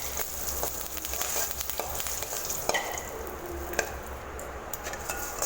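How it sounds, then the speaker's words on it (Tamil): Cumin seeds, asafoetida and curry leaves fry in hot oil in a pan, giving a steady close sizzle with scattered pops and crackles, plus a few light stirring scrapes throughout. "கொஞ்சமாக கருவேப்பிலை எண்ணெயில் நல்லா பொரியட்டும்."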